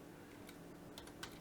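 A few faint scattered taps of typing on a computer keyboard against a quiet steady background hum.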